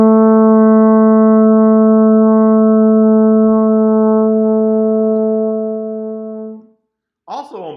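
A baritone horn sustains a steady concert A natural for about six seconds, loud and close, then fades out; a short burst of voice follows at the end.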